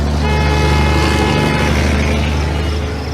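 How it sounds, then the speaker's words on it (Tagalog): A jeepney draws near with its horn tooting, its loud, steady engine rumble filling the whole stretch of street noise without any voices. "Lumapit na ang jeep."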